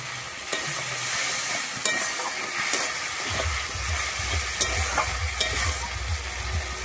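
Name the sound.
water added to frying ginger masala in a pan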